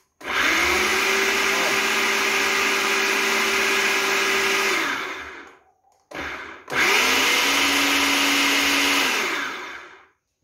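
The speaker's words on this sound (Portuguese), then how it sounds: "tô terminando de bater aqui. O liquidificador chega e fedeu queimado." A blender whirs loudly and steadily for about five seconds, cuts out briefly, then runs again at a slightly different pitch before stopping, blending cassava with water and giving off a burning smell.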